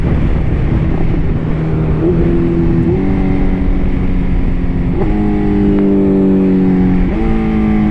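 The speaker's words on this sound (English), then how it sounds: "So I'm going to show y'all a quick demonstration of doing power wheelie in first gear." Motorcycle engine pulling a first-gear power wheelie, revving up through rising and falling pitch sweeps with sharp throttle changes about every two seconds, loud and close over heavy wind noise.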